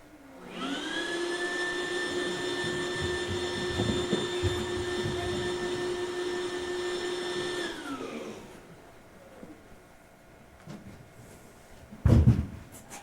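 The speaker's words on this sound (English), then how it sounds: "he held the gadget up to God's Son and turned on the machine" A gadget machine switched on to make a sucking sound effect: a steady, loud vacuum-like whine holds for several seconds, then winds down, and a single sharp thump follows near the end.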